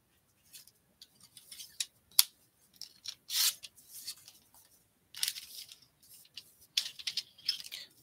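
Scissors snip through paper for Christmas craft embellishments, giving a series of short, crisp cuts in uneven bursts with pauses between, close and fairly quiet.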